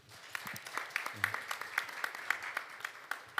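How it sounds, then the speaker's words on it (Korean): A crowd at a startup panel discussion applauds steadily, many hands clapping in a dense, even patter that carries on throughout at moderate volume. "여러분 박수 한번 보내주십시오"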